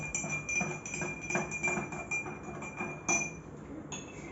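A spoon stirs flour into a glass of water, giving a steady run of light, repeated glassy clinks close to the microphone with no talking.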